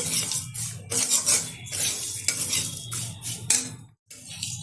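A spoon scrapes and stirs sugar and powdered milk through fried lachha semai in a pan for a milk dessert, in close, repeated metallic strokes with short pauses.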